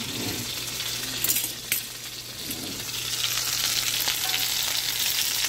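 Chicken frying in a pan, sizzling steadily and loudly throughout with a constant crackle, a low hum beneath and a couple of brief clinks near the start.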